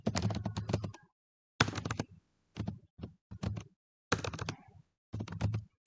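A command is typed on a computer keyboard: rapid runs of close, clear key clicks in short bursts separated by brief silent pauses.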